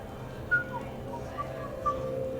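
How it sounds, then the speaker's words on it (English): A character whistles softly in the Mass Effect 3 video game, a few short, faint whistled notes over a low ambient game background. "Are you whistling?"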